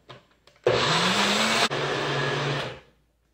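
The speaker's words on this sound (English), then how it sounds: "we'll just zip it in the blender" A blender whirs at high speed through a thick mix of potato and carrot for vegan cheese, a loud steady motor drone of about two seconds with a brief dip partway, then spinning down.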